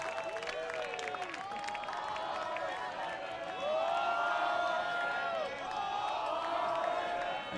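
A crowd at an Oakland Ballers baseball game chants in a rising and falling rhythm across the stands, swelling louder midway, heard at a distance beneath a broadcast voice.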